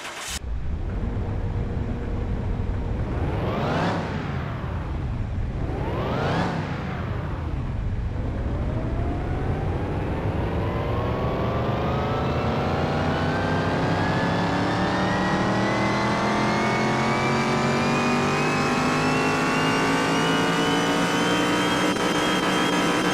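A car engine on a dyno in Car Mechanic Simulator 2021 revs up twice in quick bursts, then climbs in one long, loud pull as the pitch rises steadily through the gears, with no talking.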